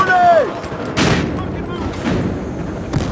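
Gunfire in the video game Battlefield Hardline during a close-quarters multiplayer match, a loud burst of shots followed by further reports, with a player shouting over the shooting.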